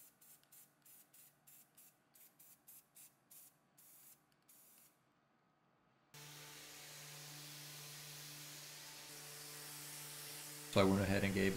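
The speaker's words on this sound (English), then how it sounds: "I just painted them with gold spray paint." Bursts of gold spray paint hissing from an aerosol can onto nightstand hardware, several short close sprays in a row, followed by a steadier louder hiss.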